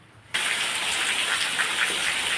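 Heavy downpour during a monsoon rain, a dense steady hiss that starts abruptly after a brief quiet moment and then roars on evenly and close, with no voices.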